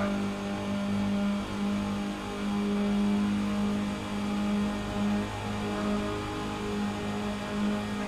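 A race car engine in iRacing at Daytona drones steadily as it revs up through the gears, a sustained buzzing tone with gentle rises and falls, loud and alone.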